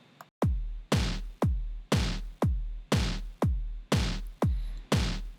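Percussion from a song, each hit a deep booming thud like a door slamming, repeats at a steady pace about every half second, loud and dry, with no talking.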